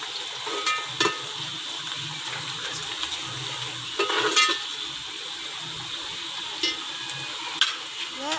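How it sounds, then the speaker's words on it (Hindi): Chopped onions frying in oil for chicken pulao, giving a steady low sizzle with a few sharp clatters of stirring scattered through, heard up close and alone. "ये देखिए हमारा प्याज अब हो रहा है।"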